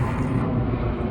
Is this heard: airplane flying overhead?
yes